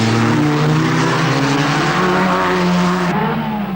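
Several 1960s racing cars rev hard through a hairpin on a road circuit, their engines loud, close and constant, with pitch rising and falling as they pass one after another.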